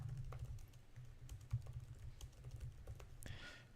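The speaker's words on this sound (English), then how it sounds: "And now type it out." Quiet, steady typing on a computer keyboard, with irregular soft key clicks under a low background hum and a slightly louder clack near the end.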